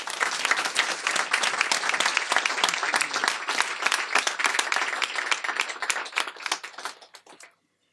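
An audience at Politics and Prose bookstore applauds to welcome author Mary Pipher, with steady dense clapping for about seven seconds that fades out at the end.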